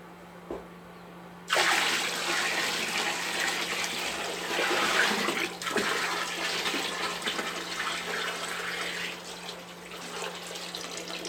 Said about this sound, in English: I will wash the other half in the same way using this centrifugal device.